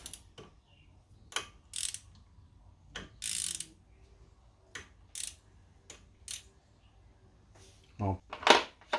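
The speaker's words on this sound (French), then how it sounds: "je vais essayer de dévisser celui-là." Ratchet working loose a bolt during a brake disc and pad change, heard as scattered short clicking bursts with a few louder metallic clunks near the end.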